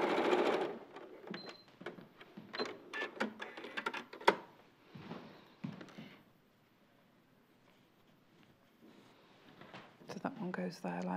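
A sewing machine stitches the seams of a quilt nine patch in close, rapid bursts of needle clatter, broken by a quiet pause before stitching resumes.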